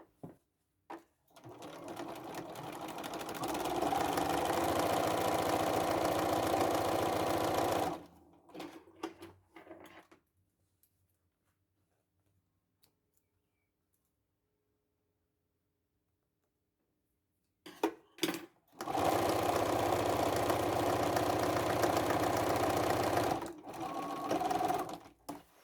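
A domestic sewing machine zigzag stitching the lining of a red velvet tote bag, running loud and close in two long steady bursts separated by a quiet pause with a few handling clicks.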